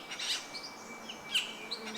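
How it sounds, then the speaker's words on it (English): Several birds chirp and tweet in an overlapping chorus, with bright, quick calls rising and falling at moderate distance against a faint steady background. "Innumerable birds sing in chorus."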